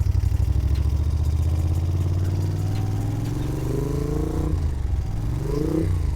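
A 1981 Moto Guzzi Le Mans Mark 2 motorcycle pulls away from close by, its loud throbbing engine climbing steadily in pitch through the gears with a brief dip near the end, continuous and without talk.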